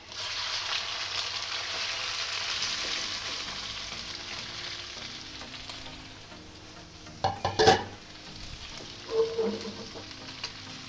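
Shrimp sizzle steadily in a hot pan for a Thai shrimp curry stir fry, a continuous frying hiss with a few sharp clinks and scrapes of a utensil near the end.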